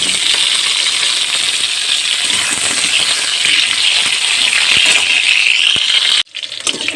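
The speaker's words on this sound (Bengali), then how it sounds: "এবার আমি আলুগুলো ভেজে নেব" Sliced potatoes frying in oil for a vegetarian mushroom khichuri give a steady, loud, dense sizzle and crackle with no talk, ending abruptly near the end.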